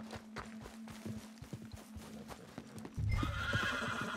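In a Red Dead Redemption 2 game scene, a horse clip-clops at a steady walking pace, close and fairly quiet, then breaks into a loud, drawn-out whinny.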